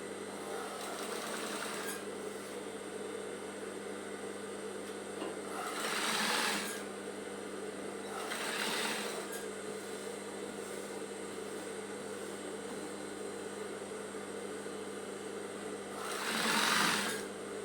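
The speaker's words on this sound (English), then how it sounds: "I'll sew it round as well" A sewing machine stitches a scrub V-neckline in a steady close whir, with a few louder bursts of faster stitching rising and falling over a low motor hum.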